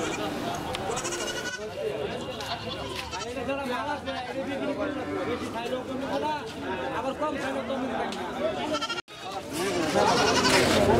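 Small goats bleating at a crowded goat market in Gafargaon, repeated calls mixed into busy crowd chatter and nearby conversation.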